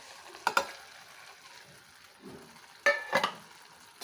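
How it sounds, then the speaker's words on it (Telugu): Raw prawns drop into a hot pan with egg curry base, giving two clusters of sharp sizzling hisses and stirring clatter, close and fairly loud, with quiet pauses between. "ఇప్పుడు మనం ప్రాన్స్ అనేవి యాడ్ చేసుకుందాం"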